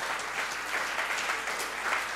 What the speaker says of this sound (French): donc je vais applaudir toute cette diversité.